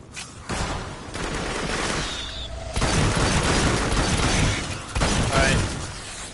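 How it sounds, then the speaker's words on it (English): Continuous rapid gunfire from the co-op VR shooter Farpoint, loud and dense for the whole stretch with sustained bursts and booming impacts, no talking. "I'm shooting out in front of you."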